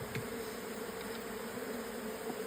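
A massive clump of bees buzzes loudly as smoke is puffed over them, a thick close swarm drone with a faint tap near the start and no speech.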